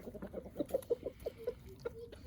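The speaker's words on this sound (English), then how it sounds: "Now we are in with our main flock of chickens." A main flock of chickens pecking at treats on the ground clucks in quick, soft, overlapping bursts close by, murmuring continuously.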